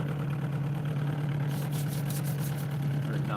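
Outboard motor on a fishing boat idling at low throttle on Lake Arthur, a steady low drone humming continuously close by, with faint water and wind noise over it and no talk.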